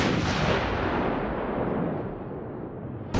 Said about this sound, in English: after his escape, the island is engulfed in a giant explosion